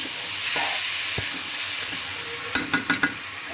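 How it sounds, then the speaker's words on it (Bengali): Boiled potato and papaya sautéing with spices in a pan for a pangas fish curry, an even close sizzle with a few sharp spatula knocks and scrapes near the end, no voices. "এখন ভালো করে সবজিটা কষিয়ে নিই"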